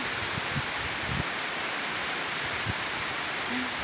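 Steady rain hissing down on a surface, a dense even patter with a few faint low knocks and drips scattered through, no voices.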